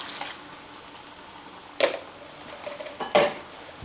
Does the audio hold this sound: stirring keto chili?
yes